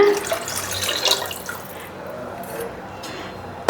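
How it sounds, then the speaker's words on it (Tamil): Water poured into a pan of tamarind-based coconut milk fish gravy on a home stove, a steady splashing pour that trails off into a quieter trickle, with no talking. "இதுலேயே வந்துங்க நம்ம குழம்புக்கு தேவையான அளவு தண்ணி ஊற்றிக்கலாங்க."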